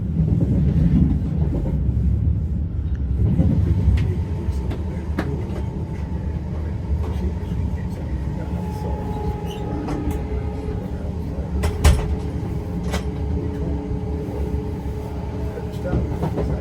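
A Class 387 electric train runs toward Littleport, a steady interior rumble and rail hum with faint clicks and occasional knocks, continuous and even throughout.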